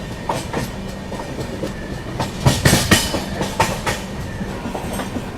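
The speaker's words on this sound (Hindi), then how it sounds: "अपनी सीआर राजधानी अराइव करती हुई कल्याण जंक्शन पे, अपने पहले हॉल्ट पे" Central Railway Rajdhani Express arriving at Kalyan Junction, a loud, close clickety-clack of wheels over rail joints with heavy rumbling and bursts of rhythmic clatter as the carriages roll through.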